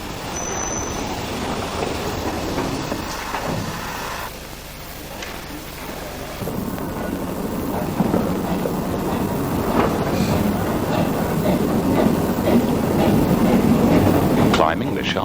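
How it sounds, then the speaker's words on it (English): A steam locomotive hauling its train draws into a station on the Keighley & Worth Valley Railway, a steady rumble and rolling clatter of carriages continuing throughout at close range, with some talk mixed in. "The Genty, once again united with its train, steams into the station to collect its first group of passengers."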